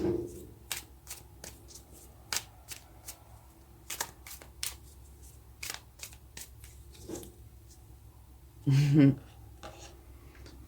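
Tarot cards are riffled and slid together in short, crisp bursts at close range, with taps and rustles between them and a longer shuffling flurry near the end, while someone speaks softly.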